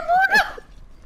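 A horse in the video game Red Dead Redemption 2 gives a loud, short whinny that rises and then falls away in about half a second, with faint background noise after it.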